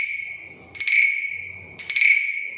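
A wooden frog guiro, a Cuban toad carving, gives two rasping croaks about a second apart, each a bright ratcheting scrape that rings briefly, close and alone.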